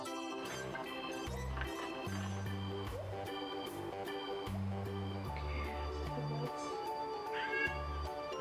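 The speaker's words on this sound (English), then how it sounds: "Hold on, kitty." Cat meowing repeatedly indoors during a DIY bath jelly session, a series of loud pitched meows in short bursts over mixing and background household sound, no clear speech.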